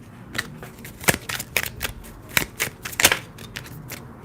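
A fresh tarot deck being shuffled by hand gives a string of sharp riffling card bursts at an uneven rhythm, close and fairly quiet, with no speech.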